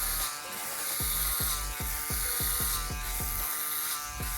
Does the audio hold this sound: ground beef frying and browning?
no